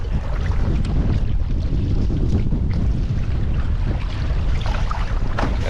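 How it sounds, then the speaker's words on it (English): Strong headwind roars and buffets across the microphone while canoeing on Catfish Lake in Algonquin, a loud continuous rumble with water sloshing against the canoe and no talking. "A lot of headwinds, but waves are not too bad just yet."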